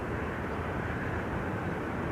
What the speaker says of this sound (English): This is the E2 Embraer 195.